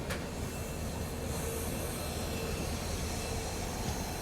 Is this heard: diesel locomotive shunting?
yes